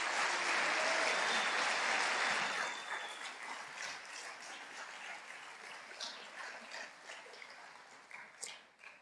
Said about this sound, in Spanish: les damos un aplauso a los de 80,